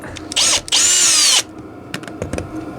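Power drill backing bracket screws out of a Jayco Eagle pop-up camper during a remodel: two loud close whirring bursts, a short one then a longer one, followed by light clicks and handling noise.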